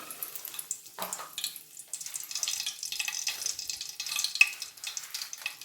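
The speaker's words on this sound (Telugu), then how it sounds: "మళ్ళీ ఇప్పుడు తాలింపు పెట్టుకుందాం" Curry leaves and chillies sizzle and spit in hot oil for tempering, with stirring and crackling bursts at close range, uneven in intensity.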